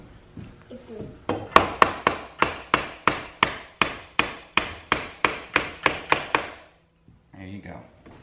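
Metal hammer strikes on parts of an antique cider press under restoration, about seventeen sharp, evenly paced blows in a steady run, loud and close, with faint voices before and after.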